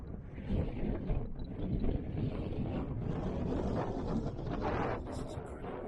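Strong wind batters a parked camper van on the Welsh coast, a steady loud roar with gusts and rumbling buffeting throughout, no voices.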